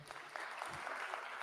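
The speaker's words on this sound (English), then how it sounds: "let's give a hand clap." Audience applause at a disaster preparedness talk, a short burst of steady hand clapping filling the room at moderate level with no talk over it.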